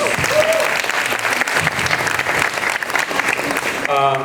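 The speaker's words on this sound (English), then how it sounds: "give him a big round of applause" A crowd claps steadily and enthusiastically throughout, with a voice briefly audible near the end.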